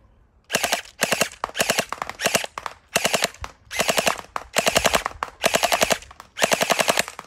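Gel blaster toy gun fires in rapid full-auto bursts, about nine loud, close rattling strings of shots separated by short pauses, with no talking.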